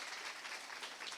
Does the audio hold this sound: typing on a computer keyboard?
no